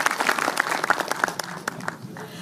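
Audience applause at a journalists' association convention in Goa, a moderate, even patter of many hands clapping continuously through the short stretch.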